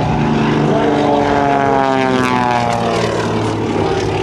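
A Waco Mystery Ship propeller airplane dives at an airshow near 200 miles an hour, its engine roaring loud and steady with a rising harmonic whine throughout.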